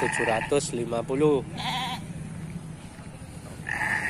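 A Jawarandu billy goat bleats in several wavering calls at a livestock market, with people talking close by and another bleat near the end.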